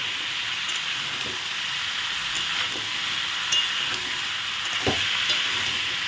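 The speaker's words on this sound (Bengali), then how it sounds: "হলুদ লবণ দিয়ে আমি ভালো করে নেড়ে চেড়ে নিচ্ছি" Mixed vegetables with green chillies, turmeric and salt being stirred in a frying pan, a steady soft sizzle with occasional faint scrapes and knocks of the spoon, no voices.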